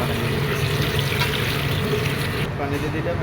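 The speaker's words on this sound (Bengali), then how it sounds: "আমি একটু পানি দিয়ে দিতেছি।" Water pours into a pot of chicken curry cooking with spice powder, a steady close rushing trickle that runs without a break.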